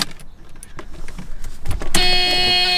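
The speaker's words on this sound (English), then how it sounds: "Wait, does the horn work?" An old Mercedes is heard first with a few clicks and rustles inside the car, then its horn starts at about two seconds and blares loud and steady to the end.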